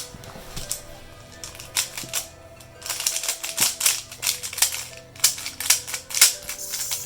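A Rubik's cube being turned quickly, with corner cutting giving rapid bursts of crisp plastic clicks and clacks, close and loud, with no talking.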